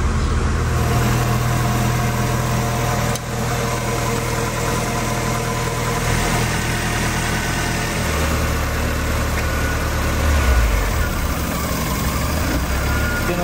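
A Mazda Miata's swapped-in 1.8 engine idles steadily and close by while warming up, a continuous low rumble with faint vibration and no talking over it.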